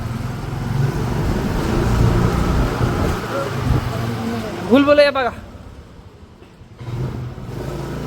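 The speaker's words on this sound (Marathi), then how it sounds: "बागल सर गाडी चालवतात" A car being driven along a road rolls and revs steadily, with a brief rising whine near the end before the engine eases off; people talk over the ride.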